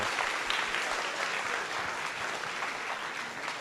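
Dense, steady applause from a large audience at a hackathon opening ceremony, many hands clapping continuously and evenly at a fairly close, full level, with no speech over it.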